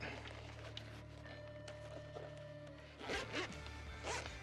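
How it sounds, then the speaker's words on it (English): A zipper runs on a DroneMask2 FPV goggles case with a phone and cable inside. Quick, close zipping strokes come near the end, over a steady low hum. "zip up."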